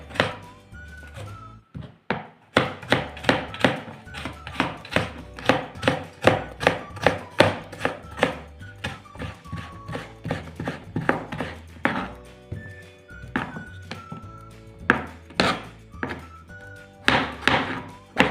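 A knife chops watermelon rind on a board in a long run of quick, close, steady strokes, with brief pauses between bursts and no talking.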